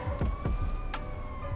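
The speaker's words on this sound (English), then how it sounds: "he don't hear the ambulance coming" A synthetic ambulance siren in GTA 5 wails at a steady pitch in the background, mixed with game sound effects: a few soft thuds and a sharp burst.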